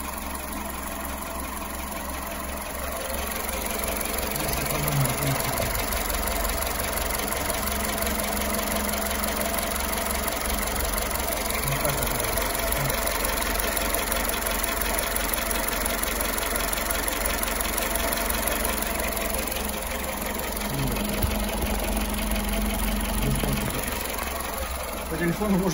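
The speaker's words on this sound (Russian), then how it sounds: "Такая вибрация на двигателе." A 2014 Skoda Fabia 1.4 petrol engine, knocking and burning oil after a workshop rebuild, idles with a steady close-up vibrating rumble and faint rhythmic knock, continuous throughout.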